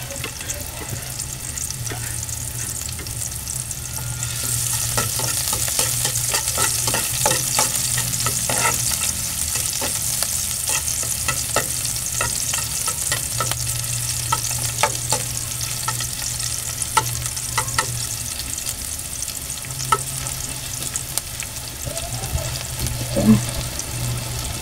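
Onions frying in a pan with pork chops, with a steady close sizzle and repeated scraping clicks of stirring throughout, the sizzle growing louder after a few seconds.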